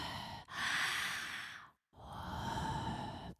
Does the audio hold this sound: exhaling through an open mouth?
yes